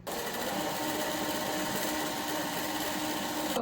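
A sewing machine runs at a steady speed, stitching lining fabric for a kali kurta with a half-inch seam, giving a continuous close whirring hum with no pauses.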